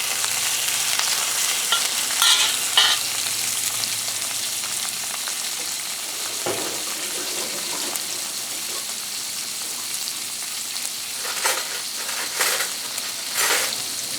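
Prawns frying in hot oil: a loud, steady sizzle that continues throughout, with scattered crackles and spatters. No one speaks.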